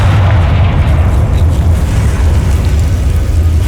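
A Confringo spell explosion in the game Hogwarts Legacy sets off a loud, continuous booming rumble with deep bass weight, sustained without a break and with no talking over it.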